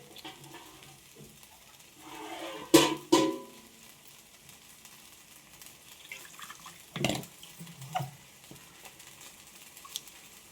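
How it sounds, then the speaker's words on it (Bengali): Water poured into a cooking pot of pointed gourd in mustard sauce, quiet and close, with a few short splashing bursts and soft clinks scattered through otherwise hushed kitchen sound. "এরপর একটু পরিমাণ মতো জল দেব।"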